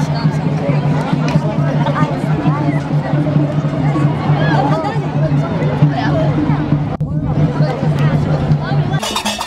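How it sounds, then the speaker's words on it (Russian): Dense crowd bustle fills Jemaa el-Fna square in Marrakesh, a steady wash of many overlapping voices and chatter with a persistent droning hum, busy and continuous throughout. "знаменитую площадь Джамаа Аль-Фна. Это театр под открытым небом."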